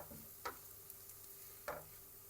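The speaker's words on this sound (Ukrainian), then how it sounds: "підсмажуємо" Quiet, steady sizzle of garlic and flour frying in a pan, with two brief scraping stirs breaking through the hiss.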